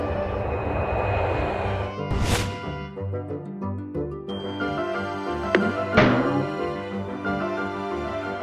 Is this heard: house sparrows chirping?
no